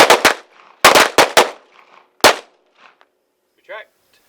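A Guardian 6 defensive pistol fires about eight sharp, loud shots in quick clusters of two to four, each crack ringing briefly, followed by faint handling noise.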